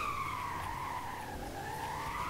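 Tires squeal in a long, sustained wavering screech as a car drifts in a driving video game, steady and continuous with no talking.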